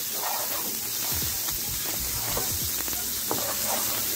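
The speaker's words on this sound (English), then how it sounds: "Along with this garlic, we're gonna add some onions. In. Cook until translucent." Garlic and onions sizzle in a hot pan, a continuous close hiss broken by scattered stirring scrapes and small clinks, with no voices over it.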